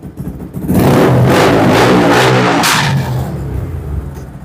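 A 2020 Yamaha R15 V3 motorcycle with dual-channel ABS and an aftermarket exhaust revs hard close by, one sustained loud burst of throttle that holds and then eases off.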